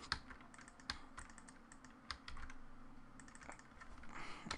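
Quick, light keystrokes clatter on a computer keyboard, close and fairly quiet, with irregular taps and a few louder key hits over a few seconds.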